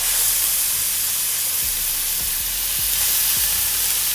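Slider burger patties sizzle in a pan over medium heat, a loud, dense, continuous frying hiss with faint low thumps underneath and no talking.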